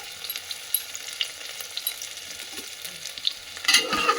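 Onions stirred in a pan while being lightly fried, giving a soft, steady crackle with scraping stir noises throughout, then a louder burst of sizzling near the end.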